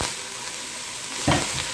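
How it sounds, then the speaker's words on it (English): Onions and peppers with celery beginning to cook in a pan, giving a steady close hiss of sizzling with one brief louder crackle near the end. "Get these onions and peppers cooking."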